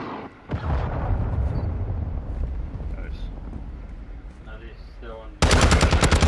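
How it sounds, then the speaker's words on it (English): Call of Duty combat with a cruise missile strike and gunfire: a sharp blast starts a long rumbling barrage of shots and explosions, ending in rapid automatic fire. "Friendly cruise missile inbound."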